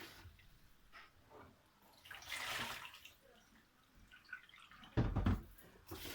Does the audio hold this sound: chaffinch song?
no